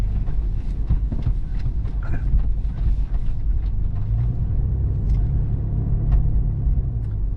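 A Toyota FJ Cruiser driving through deep sand on a Utah and Arizona trail, heard from inside as a constant low, heavy engine and tire rumble dotted with small knocks and rattles, loud and close throughout.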